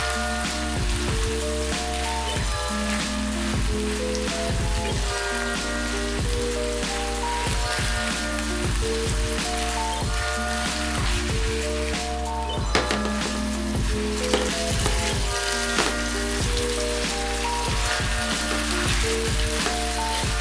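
Manicotti filling browning in a pan, a dense steady sizzle and crackle with scattered spatters and occasional scraping stirs, close and continuous with no voices.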